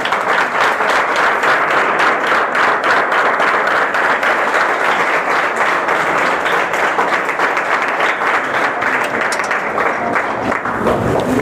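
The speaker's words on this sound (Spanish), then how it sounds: "Den un aplauso bien fuerte a Jesús." A church congregation gives loud, steady applause after a sermon, a dense wash of clapping that holds evenly for the whole stretch with little talk.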